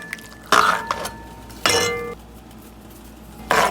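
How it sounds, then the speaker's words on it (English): Metal spoon clinking and scraping against a cooking pot while stirring Spanish food with tomato sauce, three or four short sharp rattling bursts close by with quiet pauses between. "Let's stir."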